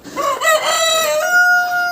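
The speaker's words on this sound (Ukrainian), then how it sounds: "Індики верещать, думають, що я їх сьогодні пущу туди на ту ділянку" Turkeys on a farm give loud, close, high screeching calls that run together into a sustained, wavering cry, with no voices over them.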